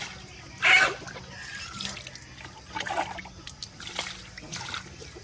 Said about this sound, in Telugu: ఇప్పుడు నీళ్ళు పోసుకొని నీట్గా క్లీన్ చేసుకుందాము